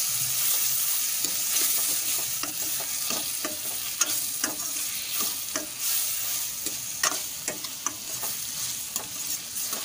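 Prawn kulambu masala sautés in a pan with a constant bright sizzle and regular sharp scrapes of a stirring spoon, close up with no speech.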